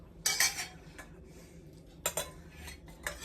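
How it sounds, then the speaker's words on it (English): A spoon stirs Jerusalem artichoke pickle in a jar to spread the seeds, giving a few bright clinks and scrapes with quiet pauses between them. "I like to stir it to try and get the seeds to go, to disperse evenly"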